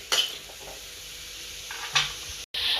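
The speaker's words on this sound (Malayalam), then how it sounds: "വെളുത്തുള്ളി ഇട്ടു വറ്റൽമുളക് ഇട്ടു പിന്നെ ക്യാരറ്റ് സവാള ക്യാപ്സിക്കം ഇതെല്ലാം കൂടി ഇട്ട് നന്നായിട്ട് വഴറ്റിയെടുക്കാം" Garlic, dried chili, carrot, onion and capsicum sauté in a pan for pasta, giving a steady soft sizzle with a few light utensil scrapes and taps against the pan, heard close with no talk.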